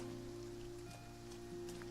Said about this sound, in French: il pleut, comme il pleut, j'ai pas besoin d'arroser